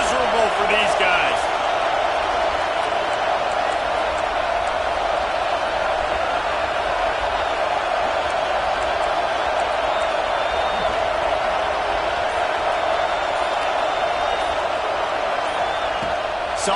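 Roaring stadium crowd at an SEC college football game with the Florida Gators, a steady, dense wash of noise holding loud throughout, with commentary spoken over it.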